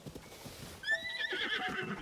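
Epona the horse in Zelda Tears of the Kingdom gives a clear close whinny after a few soft hoof clops, the neigh rising and trailing off to the end.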